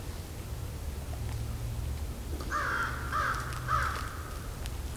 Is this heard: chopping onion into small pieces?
no